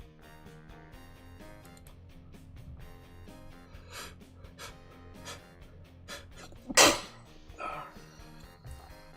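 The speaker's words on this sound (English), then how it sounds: "Sorry if you just heard me sneeze." A single sharp, burst-like sneeze from a person building LEGO during a late-night live session, sudden and loud over quiet background music and light handling noise.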